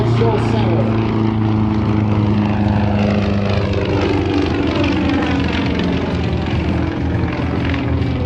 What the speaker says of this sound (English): Now step rolling the airplane on that down line.